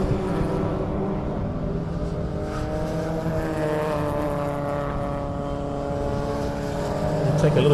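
Race cars including a Honda Civic and a Mazda MX-5 circulating at Zwartkops, engine tones rising and falling as they pass at moderate distance, with a continuous wash of track noise and a louder surge near the end.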